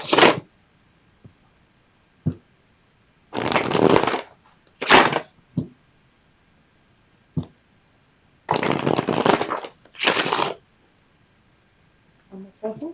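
Several short bursts of tarot cards being shuffled and riffled, close and crisp, separated by quiet pauses.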